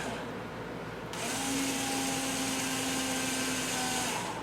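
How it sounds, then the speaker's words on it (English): A handheld power drill spins up after a second of background and bores a hole with a steady whining hum, close and fairly loud, no talking. "Now I'm just going to drill 2 holes in here diagonally"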